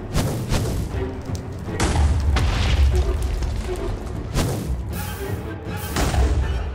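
Ghast fireballs explode in a Minecraft-style game as a series of deep, heavy booms and crashing thuds, several overlapping in quick succession and rumbling loudly throughout.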